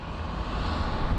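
A British Airways jet on approach to land at Phoenix Sky Harbor International Airport, heard as a steady, broadband engine roar with low rumble and wind noise, constant and fairly close throughout.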